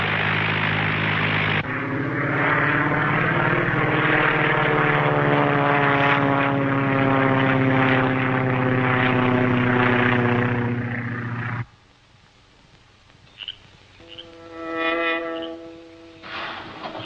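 A propeller airplane drones loudly overhead with a steady buzzing engine, then cuts off abruptly, followed by fainter engine hum returning, a 1940 serial radio-drama sound effect.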